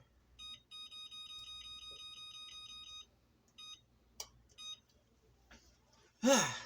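A kitchen oven timer sounds a rapid run of high electronic beeps, then a few shorter bursts after a pause, loud and close, followed by a brief sigh-like vocal sound at the end.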